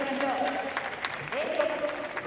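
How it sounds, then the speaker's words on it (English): Small group of British spectators clapping at a Paralympic badminton match in Tokyo's Yoyogi National Stadium, light applause under a commentator's voice in a large hall. "Dan leading us out with his trademark headband, to applause from the Brits who've managed to make it here."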